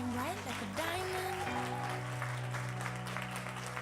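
An audience at a Paris success day event gives sustained applause to welcome speakers onto the stage, with the clapping running under a speaker's amplified voice and a brief rising musical tone.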